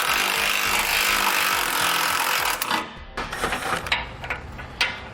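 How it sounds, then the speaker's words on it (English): A loud, continuous power-tool whir, likely an impact wrench on a 14mm socket with long extension, pulls bumper beam bolts on a 2019 Subaru, then breaks into rattling bursts and clunks with no talking. "we're going to have a 14mm socket and a long extension so we can go through the access holes to pull the hardware"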